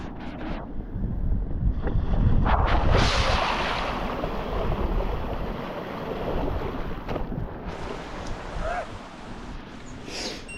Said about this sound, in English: I think we're getting close to the first ford crossing. I'm going to go for it.